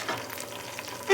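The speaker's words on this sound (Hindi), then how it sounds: "अब मैं इसमें डाल दूँगी गोश्त जो मैंने अलग से उबाल कर लिए" Boiled mutton tipped into golden fried onions in a pot for white mutton pulao, setting off a steady close sizzle that flares into a louder hiss at the very end.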